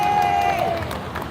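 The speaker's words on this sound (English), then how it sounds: "Give her a round of applause." Audience at a Detroit community vigil applauding a speaker, steady broadband clapping and crowd noise throughout, with a sustained whistle-like tone early on.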